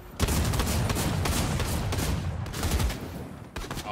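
Dense rapid gunfire crackles and booms in a video game firefight, a loud continuous barrage of overlapping shots with a brief gap near the end.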